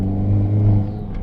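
A Hyundai Elantra N engine revs against the brake during brake boosting, a loud, close, steady rumble with a brief swell before easing slightly.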